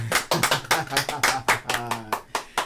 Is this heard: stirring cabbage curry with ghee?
no